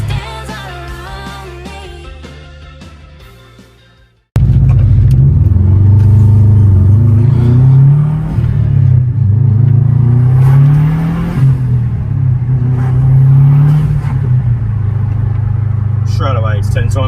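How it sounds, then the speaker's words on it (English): A Subaru Impreza with a freshly replaced clutch pulls away on a test drive, its engine rumbling loud and close as it revs and shifts through gears over about thirteen seconds, following a brief stretch of other sound. "it was time to see if this Scooby would not only drive, but to see if we still had that slipping clutch"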